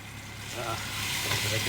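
Ginger-garlic paste spits and crackles as it is fried and stirred in a hot pan, a dense, loud, steady sizzle with a soft hum underneath.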